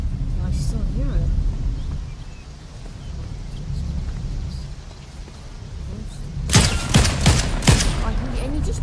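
Fortnite gunfire in a ranked match bursts out as a rapid cluster of loud shots near the end, following a stretch of low rumbling game ambience with a player talking throughout.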